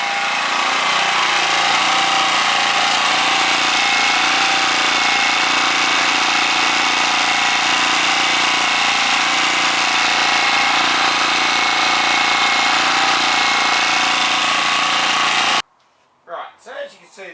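A Ryobi portable generator runs close up with a steady, loud engine drone for about fifteen seconds before abruptly cutting off, after which a voice is heard.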